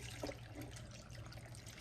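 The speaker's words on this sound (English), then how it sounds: "I'm gonna go ahead and put in 2 cups of water" Water pours steadily into a slow cooker over a pile of potatoes with condensed soup, a continuous faint splashing trickle with a low hum underneath.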